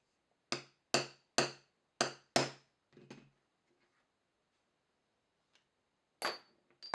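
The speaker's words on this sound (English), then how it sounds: "After the rivets are hammered shut" A hammer strikes rivets shut on a leather knife sheath: five sharp evenly spaced blows, a few softer taps, then a pause before two or three more crisp strikes, close and isolated in quiet.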